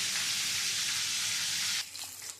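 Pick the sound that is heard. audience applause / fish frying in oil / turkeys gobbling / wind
fish frying in oil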